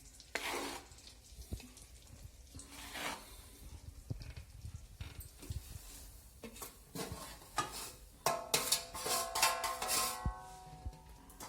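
Ground green moong flour roasting over low heat in desi ghee in a wok, with soft scraping and stirring strokes and a light sizzle, growing busier and louder toward the end.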